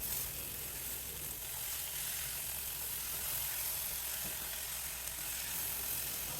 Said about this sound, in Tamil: கட் பண்ணி வச்சுருந்த தக்காளியையும் சேர்த்து இப்போ வதக்கணும்.